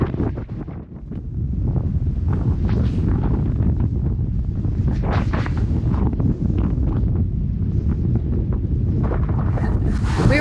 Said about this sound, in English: the strongest wind and plowing into the waves